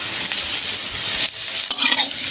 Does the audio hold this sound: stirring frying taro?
yes